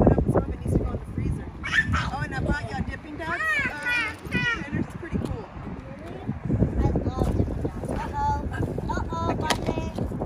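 Dogs on an outdoor walk give yips, whimpers and short barks mixed with wind buffeting the microphone, while people talk almost continuously over them at close range.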